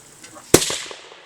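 A single sharp rifle shot fired at an outdoor shooting range during a nature and hunting camp on Hiiumaa, loud and close, followed by a brief fading echo.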